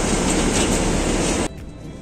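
A metro train ride in Multan: a loud, steady, dense rumble of the moving carriage that drops off abruptly after about a second and a half to a quieter interior hum.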